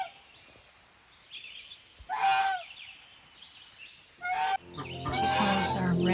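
Cinnamon Queen pullets call outdoors in a garden, a few short honking squawks in separate bursts, growing into a louder, busier clucking chorus at the end.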